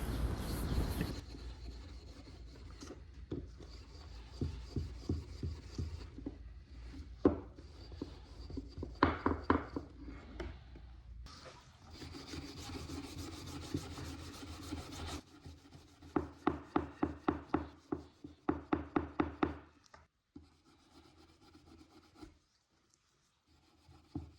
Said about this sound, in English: With steel wool I take off the old varnish